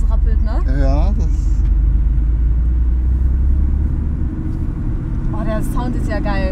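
Low, rumbling engine of a manual Porsche 964 Carrera 2 from inside the cabin while driving, a steady deep drone running throughout, with people talking over it at the start and end.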